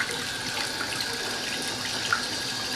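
Hot water runs from a tap in a house whose central heating system has just been power flushed, a steady, moderately quiet hiss and splash close by with no talk.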